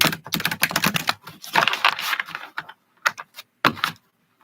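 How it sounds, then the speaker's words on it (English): A deck of cards being shuffled up close, a series of quick rattling, clicking bursts of card edges in uneven clusters with short silent gaps between them. "Shuffle the deck to make sure it's around."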